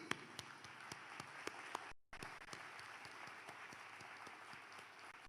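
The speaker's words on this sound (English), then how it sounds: "Give them a big round of applause, please" Parents and graduates at a college graduation ceremony applaud the faculty in a soft, steady patter of clapping with a few sharper individual claps, a brief gap near two seconds, then continued clapping.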